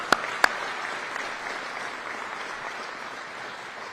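An audience at a Chicago mayoral press event on summer violence breaks into applause, opening with two sharp close claps and then settling into a steady, moderate wash of clapping that carries on evenly.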